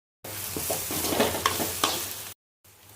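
Cabbage fries in a pan with ginger-garlic paste and chili powder, giving a close sizzle with a few stirring scrapes, then a short pause before the sizzle resumes.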